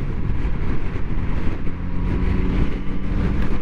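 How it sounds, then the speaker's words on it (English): A 2023 Yamaha MT-09 SP motorcycle pulls a wheelie up a highway on-ramp, its engine a loud close rumble churning under heavy wind buffeting on the rider's microphone, with no talk. "that was a wheelie going up the on-ramp."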